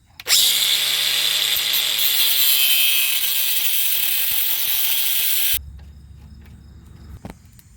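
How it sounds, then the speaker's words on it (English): Angle grinder cutting a tie rod nut on a Chevrolet Impala, a loud continuous high-pitched shriek for about five seconds that cuts off abruptly, leaving a low hum and a small clink. "angle grinder, of course, safety glasses. I'm gonna try to cut the nut in half"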